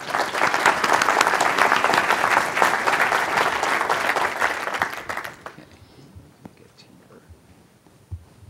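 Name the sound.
audience applause at a conference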